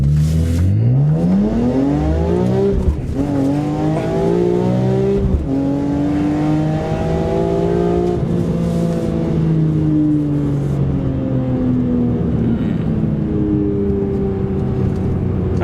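A BMW E46 M3 with a 4.1 final drive and rebuilt rear differential accelerates hard from a standstill. The engine note climbs loudly through several gears, with brief drops at each upshift.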